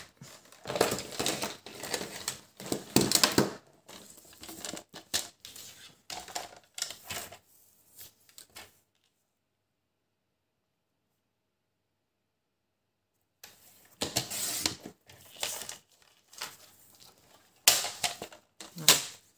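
Sharp crackling snips of scissors cutting paper to size for an album pocket, crafting at a table, come in close, busy bursts, drop to near silence midway, then return with louder crisp cuts.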